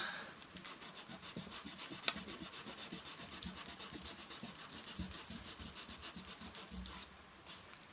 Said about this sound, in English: let's see what this looks like once I've rubbed it out